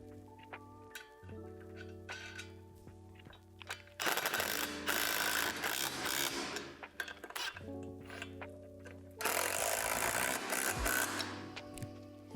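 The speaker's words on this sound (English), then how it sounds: "Then secure these bolts with the nuts." Metal nuts are driven onto bolts while a Lifetime portable basketball hoop is assembled, with two long bursts of loud, rapid ratcheting and clinking separated by quieter stretches that carry steady tonal hum.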